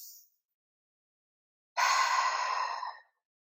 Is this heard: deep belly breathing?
yes